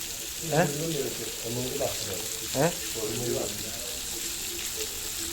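Masala-coated food frying in a pan makes a steady sizzle and crackle, with a few louder bursts. A voice talks over it throughout.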